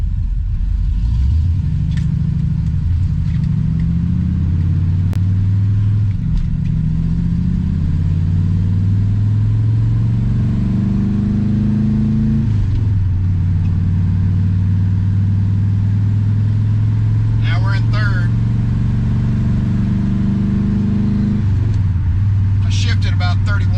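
A Corvette C3 fitted with glass pack side pipes pulls away from a turn and climbs gently through the gears, a loud, deep engine rumble rising and dropping with each shift, with someone talking over it throughout.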